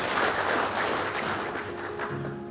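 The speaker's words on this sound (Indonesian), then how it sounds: "Tepuk tangan untuk Komisi 2." An audience applauds Commission II during a parliamentary working visit in Bali, a steady, dense wash of clapping from a room full of people, fairly even and continuous with no voices over it.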